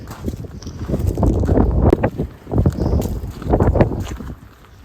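Gusty wind buffeting a microphone outdoors beside a car, in rough low-pitched surges that rise and fall several times, loud and close.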